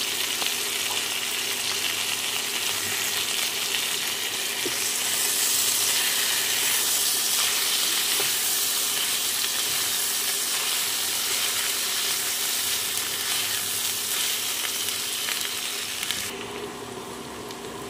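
Ginger paste and green chilies sizzle steadily in a hot pan, a dense continuous frying hiss that stays loud throughout, ending with a slight shift in tone near the close.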